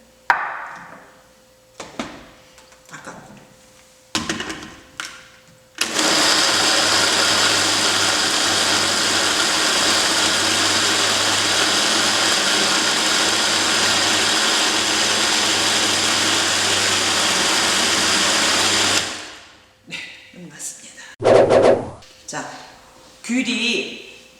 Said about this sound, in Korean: 이대로는 안 갈아지니까 물을 좀 넣고 갈아줍니다